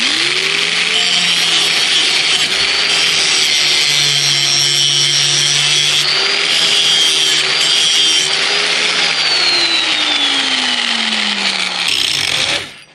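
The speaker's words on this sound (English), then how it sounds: "So you're going to want to sharpen it from the top side." A John Deere X320 lawn mower blade being sharpened from the top side, a loud continuous grinding whine that holds steady and bends in pitch as the tool moves back and forth, then cuts off near the end.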